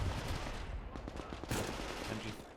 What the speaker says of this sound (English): Maxim machine gun working for full effect as well to cover that main street.